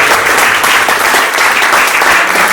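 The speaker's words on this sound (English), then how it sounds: "Let's give him another round of applause." Workshop audience gives a participant a round of applause, steady dense clapping filling the room from start to finish at a strong, even level.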